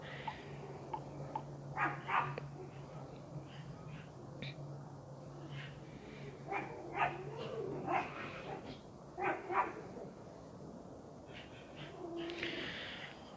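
A dog barks repeatedly at a cat sitting on a garden wall outdoors, giving short, irregular yaps and whimpers, fairly near over a faint steady background hum.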